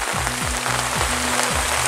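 Steady rain pattering down outdoors onto a surface near a campfire's embers, a continuous dense hiss, with a few low repeating thumps and tones sitting beneath it throughout.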